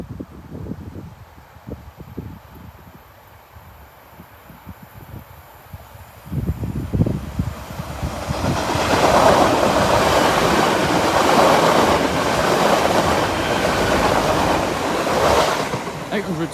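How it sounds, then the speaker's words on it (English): Train 1B84 from London King's Cross to Lincoln Central passes the Oak Farm level crossing, rising from quiet rumbles into a loud, sustained roar of wheels and rushing air that holds for several seconds without talk. "Here's 1 Bravo 84 running from London King's Cross to Lincoln Central."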